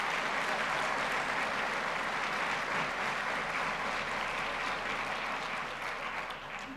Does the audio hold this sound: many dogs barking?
no